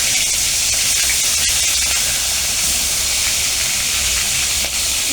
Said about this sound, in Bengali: মাছটা আমি সুন্দর করে বেশ ভেজে নেব